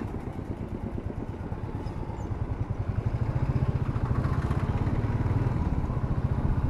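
A Royal Enfield motorcycle engine thumps steadily while being ridden, a loud, rapid low pulsing beat that builds slightly in intensity over wind rush, with no talking.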